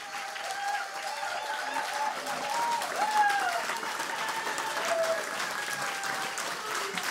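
A church congregation applauding, with steady, moderately distant clapping throughout and faint voices and a sustained tone running underneath.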